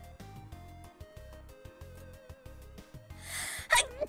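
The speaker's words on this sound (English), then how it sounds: "I have a sneeze." A single sharp sneeze bursts out near the end, over a busy bed of looping electronic game music from Touhou 8.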